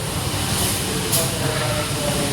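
Steady broadband rumble and hiss of the Purwojaya passenger train idling at an Indonesian station before departure, a constant loud wash of engine and air noise with no speech.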